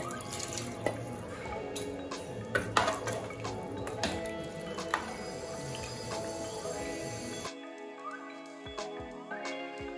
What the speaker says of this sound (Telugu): ఈ ముక్కలు మునిగేంత వరకు వాటర్ పోసుకోవాలి